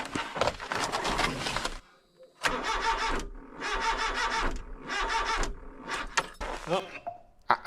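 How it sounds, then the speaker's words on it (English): In 0°F cold, a car with a weak battery cranks repeatedly without starting: several long, labored bursts of cranking broken by short pauses, loud and close, with voices talking over parts of it. "Car doesn't want to start, and it sounds like it's the battery."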